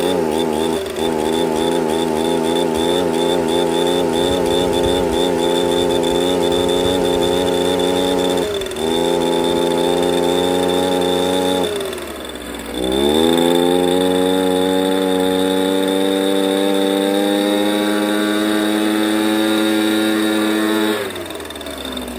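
Small two-stroke engine of an Echo PB230LN leaf blower that struggles to rev, idling and then opening up in strong sustained harmonic drones, dipping briefly to a lower idle before surging back up, steady and close.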